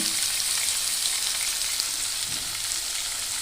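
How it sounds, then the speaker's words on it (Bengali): Chopped capsicum sizzles steadily in hot oil in a pan while a vegetarian potato paneer dish cooks, a loud, continuous hiss with no pauses. "একটি একটি ক্যাপসিকামের হাফ আমি এখানে কুচো করে নিয়েছি সেটি আমি এর মধ্যে দিয়ে দিলাম"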